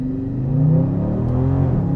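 A 2021 Dodge Charger Scat Pack accelerates hard in sport mode, its deep V8 engine roar building steadily and rising in pitch, loud and close with no talk.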